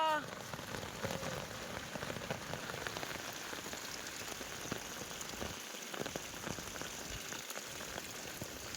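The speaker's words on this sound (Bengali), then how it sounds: "এই প্রথমবার দেখলাম শিলাবৃষ্টি" Hailstones fall in a dense, steady patter during a sudden hailstorm, a continuous close hiss of impacts on surfaces with no clear gaps, sounding much like heavy rain.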